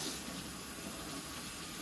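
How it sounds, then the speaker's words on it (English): Very hot water pouring from a kitchen tap as a steady, dense, hissing rush, close and unbroken, with no voices. "I have really, really, really hot water coming out of my tap"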